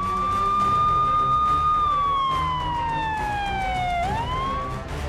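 Hooter siren on a vehicle in Kanpur, a loud wailing electronic tone that holds steady, slowly falls, then sweeps back up, over road noise.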